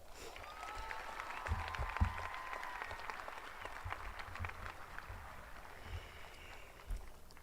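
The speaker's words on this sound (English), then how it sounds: "Let's give them a round of applause." Steady applause from a large crowd at a high school graduation, a dense wash of clapping with a few louder bursts, continuing without pause.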